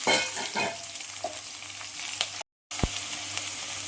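Sliced capsicum, about 300 grams cut lengthwise, sizzles and fries in a hot pan while being stirred, with steady crackling, a brief gap, then a sharp clatter of the spatula as the sizzle resumes.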